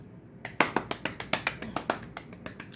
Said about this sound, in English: Hand claps and finger snaps all around, right?